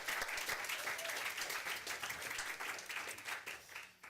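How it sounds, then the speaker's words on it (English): Applause from a city council meeting audience greeting Frank Alvarado, a steady wash of many hands clapping throughout, fairly full and sustained before tapering slightly at the end. "Give him a round of applause."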